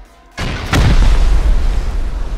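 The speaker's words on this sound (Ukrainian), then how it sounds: "Постріл!" A single sharp gunshot in a survival video game fires after a quiet moment, its boom followed by a second, louder blast that rolls on into a long, heavy rumbling tail.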